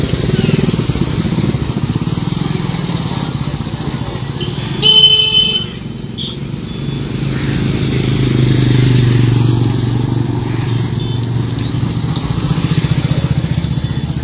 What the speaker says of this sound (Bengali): রামকৃষ্ণ সেতুর ওপর দিয়ে বাইক এবং সাইকেল চলাচল কিন্তু করছে